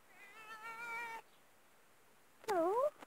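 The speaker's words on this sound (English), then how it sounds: "I found a cat." A stray cat found outside meows twice close by, a long, steady, wavering call followed after a pause by a shorter, rising and falling cry.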